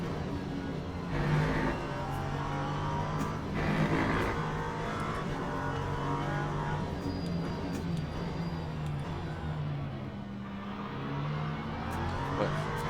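LMP3 prototype race car in the Le Mans Ultimate sim, a steady engine drone with mild surges as it accelerates, continuous and moderately loud throughout.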